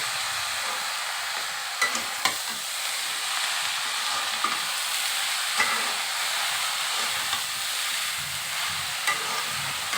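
Khesari (grass pea) greens stir-fry in a pan, a loud, hissing sizzle with occasional scraping stirs and light clicks running steadily without speech.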